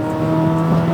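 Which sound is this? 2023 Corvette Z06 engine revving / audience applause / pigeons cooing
2023 Corvette Z06 engine revving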